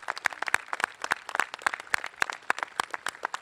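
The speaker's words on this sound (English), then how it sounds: "Let's give ourselves a round of applause." A small crowd at a military swearing-in ceremony claps in a brief round of applause, sharp, separate hand claps in a quick, uneven rhythm, fairly close and moderate in level.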